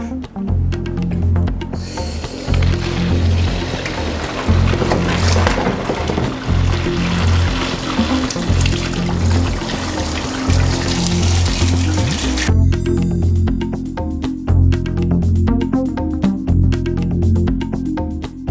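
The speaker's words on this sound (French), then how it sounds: "on va ouvrir l'eau froide pour faire refroidir le coil" Cold tap water rushes steadily through a wort chiller coil in a home beer-brewing setup, a continuous loud hiss and gurgle lasting throughout, with a brighter splashy texture early that thins out partway.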